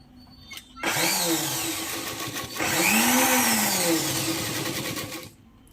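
Motorized sewing machine stitching a folded petticoat seam: a close whirring hum that starts abruptly, runs about four seconds with a slight dip and pitch swell, then stops, with no talk.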